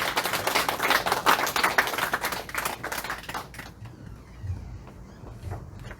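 Church congregation giving a round of applause to welcome the preacher, a dense burst of clapping for a few seconds that thins to scattered claps and room noise.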